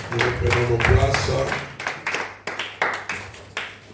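A church congregation at a Sunday service claps and cheers after the scripture reading, starting as a loud burst of applause and voices, then thinning to a few scattered, slowing claps.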